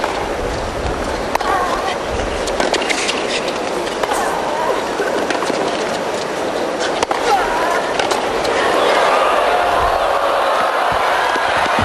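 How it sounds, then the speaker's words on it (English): Crowd at a 2007 Toronto women's tennis quarterfinal cheering and applauding after a great point, a broad steady roar that swells louder near the end, with commentary voices over it. "And that gets the crowd going."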